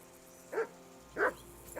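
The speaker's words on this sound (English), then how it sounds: "I assume you can hear that damn dog of yours barking." A dog barks in the medieval video game Kingdom Come Deliverance II, giving three separate moderately loud barks spaced evenly over a soft background, with no talking.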